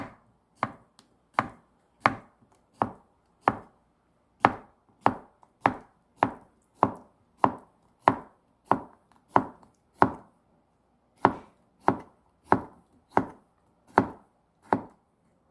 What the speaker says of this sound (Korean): 찐 애호박을 썰어요 한 3mm 정도나